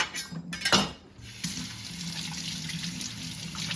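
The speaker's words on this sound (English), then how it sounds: "I'm going to rinse that. Again, these are pre-washed." Celery bunches are rinsed under a running kitchen tap, with a steady stream of water splashing close by and a few clinks and knocks of handling at the start.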